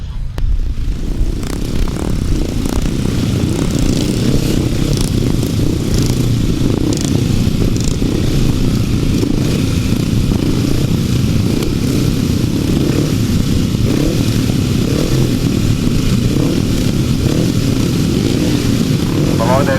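Upright motorcycles race in a grasstrack heat at Tallington, their engines roaring continuously and loudly as a pack, with an announcer's voice running over the engine noise throughout.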